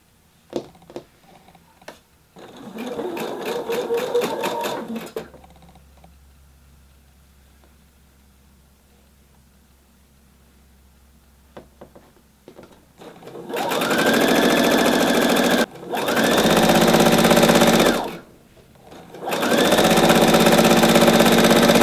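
A sewing machine stitches fabric for a top, first in a short, softer burst, then in several long, loud runs of rapid, buzzing stitching separated by brief pauses, close up and with no talking.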